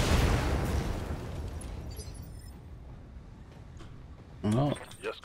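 A mech's weapon fires in RogueTech with a loud burst and explosion at the start, then decays into a fading rumble; a voice speaks briefly afterward.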